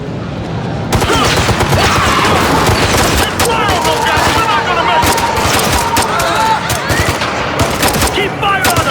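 Rapid automatic gunfire rattles almost nonstop in a video game battle in Ghost Recon: Future Soldier. The loud, dense fusillade carries shouted voices under and between the bursts.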